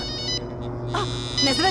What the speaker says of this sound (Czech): To je můj telefon.